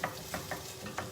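Beef stew sizzles in a pan as it browns and chars, giving a soft, steady frying hiss with a few faint stirring scrapes, quiet and close.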